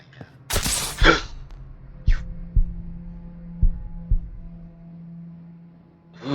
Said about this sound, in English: The game played a heartbeat noise.